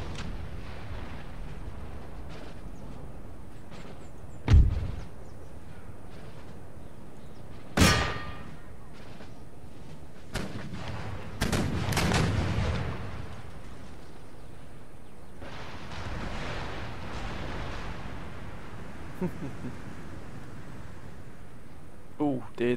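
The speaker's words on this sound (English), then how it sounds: "Oh, there they are. There's those cannons." Cannons fire in an Empire: Total War battle, with a few sharp, widely spaced booms and a longer rumbling stretch over the game's background sound, while someone talks.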